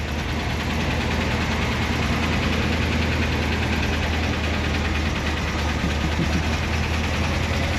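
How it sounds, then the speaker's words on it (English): A Pontiac Ram Air 4 V8 engine runs at a steady idle at a Firebird and Trans Am car show, a loud, continuous rumbling drone with a faint knocking pulse and no changes in pace. "You hear that Ram Air 4 engine run?"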